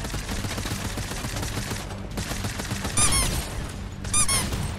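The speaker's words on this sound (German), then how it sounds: "Wer schießt denn hier?" Video game gunfire crackles in rapid bursts, a dense rattling fusillade with sharp ricochet-like squeaks near the end, loud and close, with no talking.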